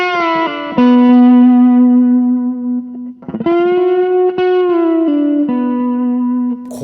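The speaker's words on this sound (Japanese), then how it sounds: "じゃあフロントにしてちょっとディレイ増してみます。" A Fender Meteora electric guitar on its front pickup runs through effects with added delay, ringing out sustained notes and chords that trail off in echoes, with a brief scratchy pause midway and no talking.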